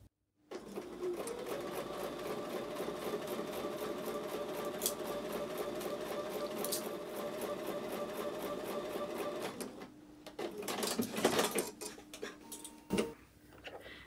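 A sewing machine stitches a final seam in one steady, rapid run of needle strokes, pausing near the end before a few short bursts of stitching and clicks.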